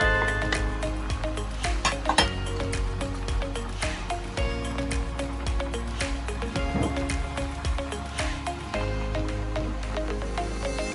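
Vegetables and pork stir-frying with udon noodles in a pan sizzle loudly and steadily, broken by frequent scraping and clacking of a spatula tossing the food, close up with no talking.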